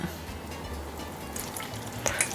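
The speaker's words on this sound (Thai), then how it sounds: "แล้วเราก็จะเทน้ำลงไป" Water poured into a tray lined with about ten sheets of kitchen paper while baking a chocolate butter cake, a soft low trickle that brightens into a brief splashy burst near the end.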